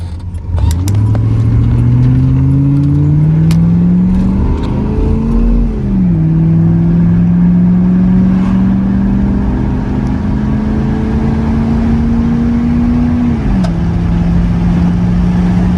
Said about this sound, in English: Zero to 60 test.